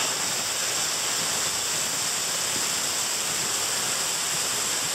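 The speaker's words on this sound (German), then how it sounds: "Es hat einen riesigen Wasserfall." A large waterfall in wild hilly terrain pours as a steady, even broadband roar, continuous and unbroken with no voices over it.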